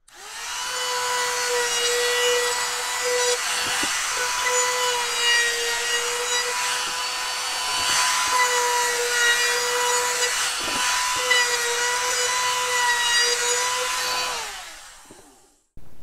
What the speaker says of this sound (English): I'm just going to use my 1/8 inch round over and clean up the edges real quick